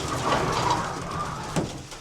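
Racing pigeons coo steadily up close in a loft, soft overlapping murmuring calls that run continuously with a brief louder flutter near the end.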